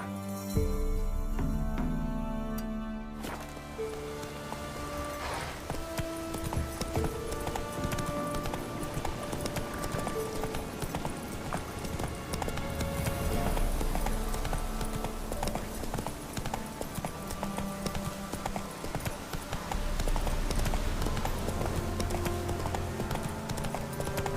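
Horse hooves pound in a steady galloping clip-clop in The Witcher 3: Wild Hunt, continuous and close beneath a layer of game music, with no speech.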